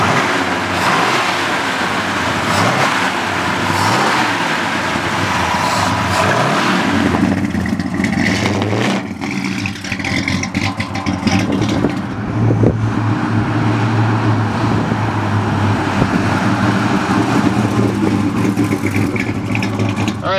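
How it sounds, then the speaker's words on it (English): A 1969 Plymouth Road Runner muscle car with aluminum heads and a big intake drives, its loud, rumbling V8 engine revving and accelerating continuously throughout, close to the listener. "Let's take this Roadrunner for a ride."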